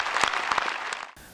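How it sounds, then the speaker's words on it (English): An audience at a military change-of-command ceremony applauds the families, a short burst of many hands clapping with a few louder claps, then cutting off abruptly. "Please join me in a round of applause for these brave families"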